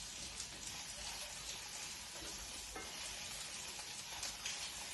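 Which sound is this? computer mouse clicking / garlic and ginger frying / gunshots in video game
garlic and ginger frying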